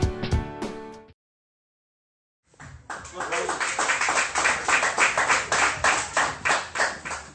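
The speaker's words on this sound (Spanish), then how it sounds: "El aplauso es para el Señor." A church congregation breaks into sustained rhythmic clapping in unison, loud and steady, following a brief burst of music and a moment of silence.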